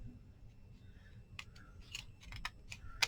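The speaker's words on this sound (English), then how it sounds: "trim that last little bit with my scissors." Small scissors trim the edge of a paper playing card in a quiet craft setting, giving a few crisp, close snips that grow sharper toward the end.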